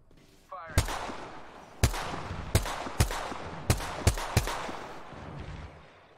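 Gunfire in the video game Apex Legends: seven sharp, loud, close shots spaced irregularly over a steady background rumble, without talking.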